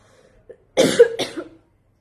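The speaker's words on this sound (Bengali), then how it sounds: "এত কেন কাশি হচ্ছে" A woman's cough in a quiet indoor setting: two close, loud coughing bursts in quick succession after a short silence, with no other sound around them.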